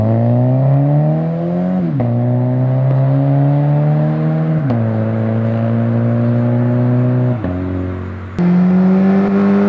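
Automatic Toyota 86/Subaru BRZ pulling hard from inside the cabin, its engine drone climbing in pitch and then dropping sharply at several quick gear shifts, with a brief exhaust pop near the end and no talk.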